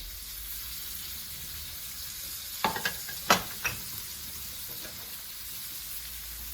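Seasoned meat searing in a pan, set seasoned side down, gives a soft steady sizzle with a few brief clicks and pops midway, quiet and without talk.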